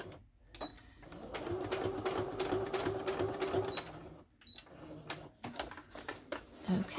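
A sewing machine stitches a shaker pocket onto a paper lapbook, running in a steady mechanical whir for about three seconds, then stopping amid light handling noises, with some speech nearby.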